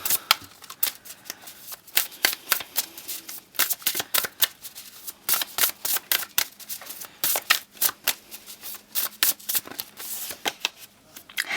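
Oracle cards shuffled by hand, a dense run of quick riffling flutters and slaps in uneven bursts, close and fairly loud, with no talking.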